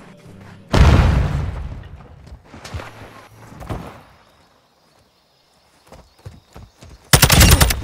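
A grenade blast and bursts of gunfire from the Call of Duty: Modern Warfare II shooter, starting with a loud, close explosion, then scattered shots and rumble, a short lull, and a sudden heavy final burst of fire.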